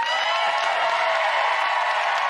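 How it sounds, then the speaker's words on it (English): A studio audience at a daytime talk show breaks into loud, dense applause and cheering, a steady wash of many hands that fills the room evenly from start to finish. "Give a big round of applause."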